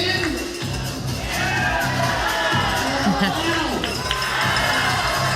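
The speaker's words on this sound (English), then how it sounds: "We hear the crowd, they are getting into it here this evening." A crowd cheers and shouts steadily at an evening championship pickleball match, a loud, sustained roar under continuous commentator talk.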